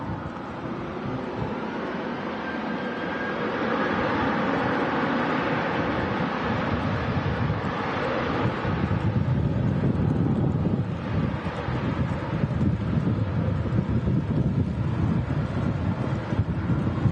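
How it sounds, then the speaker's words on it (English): Jet airliner departing for Kefalonia, a steady distant roar building gradually and staying broad and sustained throughout, mixed with wind buffeting the microphone. "This one on the way to Kefalonia."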